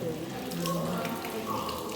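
Mineral water runs steadily from a spring tap in the pump room at Polanica-Zdrój, a continuous splashing trickle heard close, with people talking over it.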